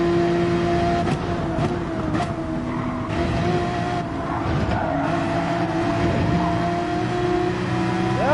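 A race car engine drones steadily in Gran Turismo 7 at Spa, holding a sustained high-revving tone close up with small pitch shifts and brief gear-change dips, constant and loud throughout.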